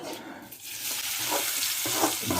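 Onions sauté in oil on a gas stove as egg roast and ghee rice are made, a close, continuous sizzle with soft scraping of stirring and no voices.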